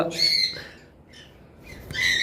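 Young tame lovebirds give sharp, shrill squawking chirps close by. One burst comes at the start and another at the end, with a quieter gap between them.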